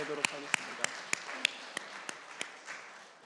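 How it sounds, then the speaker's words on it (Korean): Sparse, spaced claps in a church on an air force base, eight or so distinct slaps at a steady pace, fairly faint, with a quiet roomy background and no talk. "우리 저 뒤쪽에 있는데 한번 보시고 우리 축복과 축복의 박수 우리 보내도록 하겠습니다"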